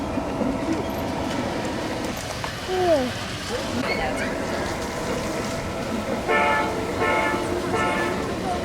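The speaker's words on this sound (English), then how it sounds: "There we go. Train." A train rumbles past with clattering wheels and brief squeals, while people talk nearby over the steady rail noise.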